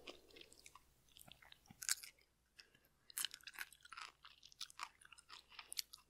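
Baby dill pickles are chewed and crunched close to the microphone, with sharp wet crunches, softer repeated chewing and mouth sounds, quiet and intimate with no talking.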